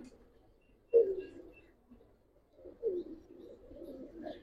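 Giribaz and coloured pigeons coo in low, intermittent calls, a few soft bursts separated by quiet gaps.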